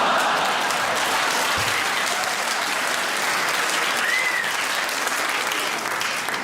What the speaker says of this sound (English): I think clapping a Parkinson's joke is in poor taste, ladies and gentlemen.